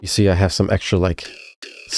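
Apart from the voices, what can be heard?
No everyday noises stand out.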